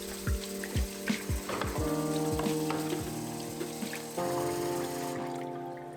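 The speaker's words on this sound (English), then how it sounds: "I'll get up and wash the dishes." Dishes are washed in a kitchen sink in the morning, with running water splashing and a series of close clinks and knocks of crockery and utensils, irregular and fairly loud.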